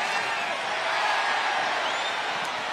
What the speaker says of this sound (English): Crowd likes the opportunity.